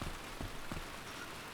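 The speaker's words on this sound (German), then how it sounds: "Es regnet." Heavy rain pours in the video game DayZ, a steady dense hiss of drops with a few soft thumps, fairly quiet and continuous with no voices.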